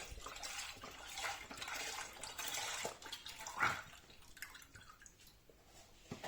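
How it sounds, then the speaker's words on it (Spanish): Milk poured from a litre carton into a saucepan for homemade custard, a steady liquid splash and trickle running for several seconds, fairly close and moderately loud, with no talking. "colocamos el resto del litro de leche en nuestro cazo"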